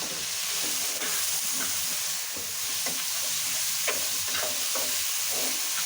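Boiled khesari greens stirred through hot oil in a pan, a steady bright sizzle with scraping spoon strokes repeating every half second or so, close and continuous with no talking.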